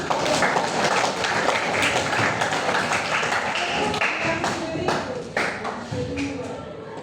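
Students in a classroom clap together, a dense, steady patter of many hands that keeps going the whole time with a few sharper taps, while voices and chatter run underneath.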